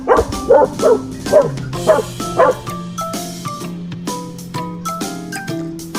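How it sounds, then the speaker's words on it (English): A dog barks five times in a steady, evenly spaced series, sharp and close, while a light plucked melody plays underneath and continues on its own after the barking stops. "dog"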